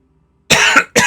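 Two sharp, loud coughs in quick succession, close up, the first longer and the second clipped short, with silence before them.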